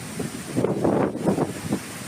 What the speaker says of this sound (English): oh, is it windy?